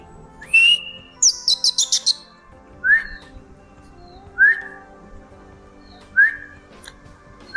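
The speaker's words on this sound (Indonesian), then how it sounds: "Kalau dia nggak hilang kacer ya dia pasti bunyi teman-teman." An oriental magpie-robin (kacer) sings close by, with a rapid burst of bright whistled notes followed by spaced, single rising whistles repeated at intervals over a quiet background.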